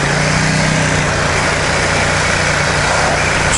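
A Ducati XDiavel cruiser motorcycle engine while cruising, a loud steady throbbing drone mixed with heavy wind rush, continuous with no pauses.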